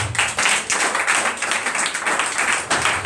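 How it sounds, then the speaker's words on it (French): Church congregation clapping together in praise of Jesus Christ, a dense continuous patter of many hands filling the room, fairly loud and steady throughout. "Acclamons Jésus-Christ"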